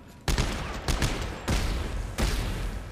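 Weapon fire in the sci-fi horror game Dead Space 3: four loud, heavy gunshot bursts about half a second apart, each a broad blast with a short rumbling tail, close and prominent with no talk over them.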